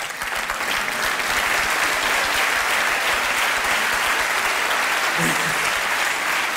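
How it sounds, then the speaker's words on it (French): Loud, dense audience applause at a French stand-up comedy show fills the whole stretch steadily, with a brief voice near the end. "ben applaudissez bien fort"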